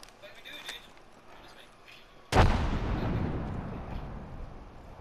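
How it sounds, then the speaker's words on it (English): A frag grenade detonates in Apex Legends: one sudden loud blast midway, its rumble decaying slowly afterward, preceded by quieter game ambience and faint voice callouts. "Throw my grenade out."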